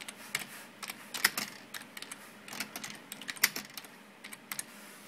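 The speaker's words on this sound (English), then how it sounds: "So I can just, type up a little document." Quiet typing on a computer keyboard during remote desktop use, a steady patter of light key clicks in irregular bursts with no talking.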